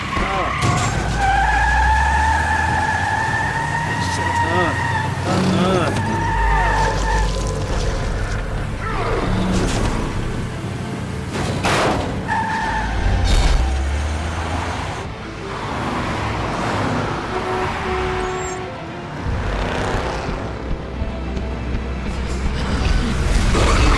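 Cars skid and swerve through traffic in The Wolf Among Us, with tire screeches, engine roars and crash-like thuds in a busy, loud mix while people talk excitedly over it.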